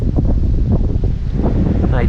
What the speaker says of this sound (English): Right now this wind is just blowing me straight into this cove.